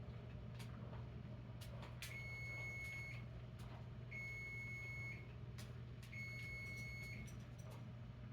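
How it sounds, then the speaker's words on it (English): A kitchen timer beeps in three sustained bursts of about a second each, spaced evenly over a low steady hum while fettuccine cooks. No one speaks. "seems that timer did set"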